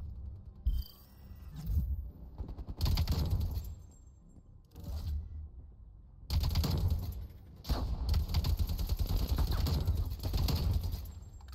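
Weapons fire in Call of Duty: Black Ops Cold War multiplayer comes in loud, rapid automatic bursts and stutters, separated by brief lulls and mechanical clatter.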